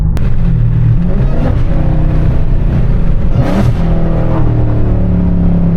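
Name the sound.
widebody Hellcat car engine downshifting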